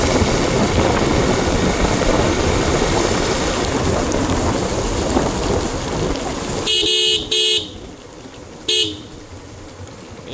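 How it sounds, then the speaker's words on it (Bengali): Heavy rain pours down outdoors, a dense loud wash of hiss that is steady for several seconds, then breaks into short bursts of a sharp tonal horn near the end. "কি বৃষ্টি দেখেন, আর কি মেঘ।"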